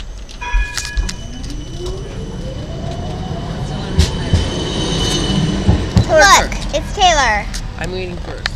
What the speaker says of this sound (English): Here's the tram.